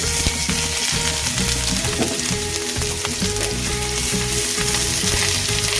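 Onions with ginger-garlic paste frying in a pan over slow-medium heat for a restaurant-style methi malai paneer, a steady loud sizzle with small crackles throughout, no voices.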